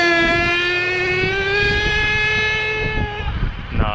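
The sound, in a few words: HPI Savage nitro RC truck engine running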